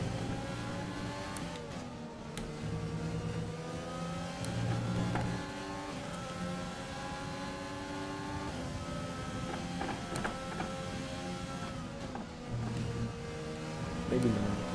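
Formula 1 race car engine in the F1 2020 video game, a worn engine running at the Austrian circuit, droning steadily with shifting revs throughout, overlaid by speech.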